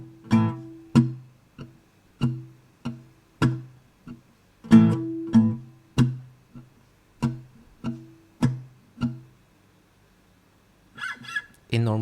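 Slow acoustic guitar strumming of the bridge of a song, evenly spaced muted strokes with short gaps between them, close and clear, followed by a pause and a brief sound at the end.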